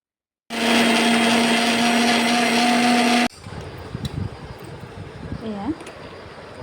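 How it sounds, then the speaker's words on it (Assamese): A mixer grinder whirs loudly and steadily for about three seconds, grinding chillies, mustard seeds, ginger and garlic, then cuts off abruptly, leaving quieter kitchen sounds. "জলকীয়া আৰু সৰিয়হখিনি, আদাও দিছোঁ, নহৰু চব দি পেলাই মিক্সিত মাৰি দিছোঁ।"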